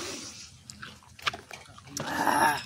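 A dog laps and slurps at drinking water in short wet bursts, close by and fairly quiet, with a longer messy stretch of lapping near the end.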